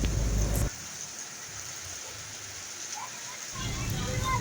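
Heavy rain during a flood in Makassar, a steady loud hiss of downpour with stronger low rumbling bursts at the start and end, no talk.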